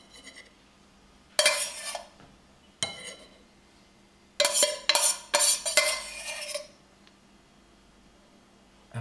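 A spoon stirs sauce in a metal pan for duck ravioli, giving bursts of scraping and clinking in two clusters separated by quiet pauses, close and fairly soft.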